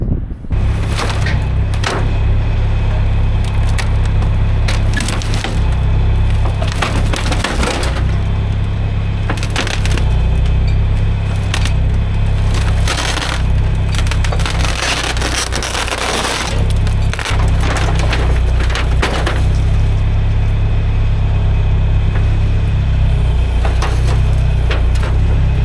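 A John Deere 410 backhoe drones heavily while its bucket crushes wood, with repeated loud cracking, splintering bursts breaking through the steady engine roar over nearly half a minute.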